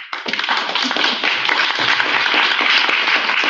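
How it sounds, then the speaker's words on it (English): Audience applause at a presentation event, a dense, steady wash of many hands clapping close by, continuous and fairly loud from start to finish. "I will never say no to a good applause"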